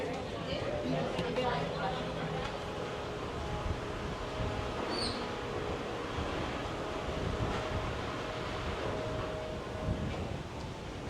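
Constant wind roars on an open cruise ship deck on a cold day, with low rumbling hum underneath and occasional buffeting, steady throughout with no distinct voices.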